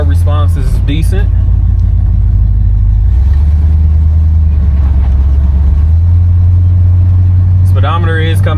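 A 1969 Buick Electra 225 engine hums and rises on a test drive, a loud, steady low rumble heard from inside the car, with someone speaking at the start and end.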